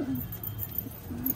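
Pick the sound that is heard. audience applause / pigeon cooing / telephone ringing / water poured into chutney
pigeon cooing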